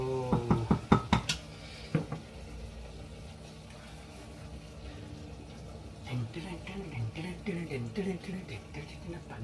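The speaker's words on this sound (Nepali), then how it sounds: "अब एकछिन मलाई मजाले चलाउँदै भुट्दै गर्छु" Goat mutton stirred and fried in a pan, metal utensil clanks against the pan in a quick series at first, then scraping and sizzling, with a voice talking over it.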